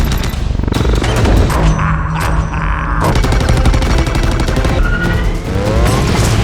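Alien weapon fire in the film Transformers: Age of Extinction, a dense barrage of loud, crackling sci-fi shots and blasts that continues throughout, with siren-like whines and rising electronic tones mixed in.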